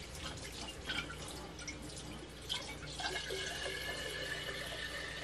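Tap water pours into a bowl, giving a soft continuous trickle and splash with a few louder spatters, close but quiet, and no one speaks.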